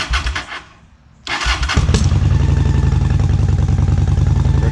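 A Honda Shadow 750 motorcycle is started with the choke held: a short cranking burst, a pause, then the engine catches and settles into a loud, steady, close idle.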